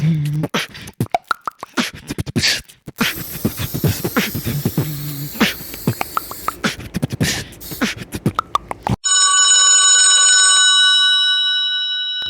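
A telephone rings for a few seconds, a loud electronic tone with steady harmonics that follows a burst of busy, clattering sounds and then holds alone until the end.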